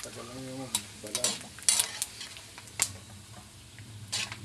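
Chicharon macaroni crackles and sizzles in a hot pan, with scattered sharp pops and scraping stirs over a steady frying hiss.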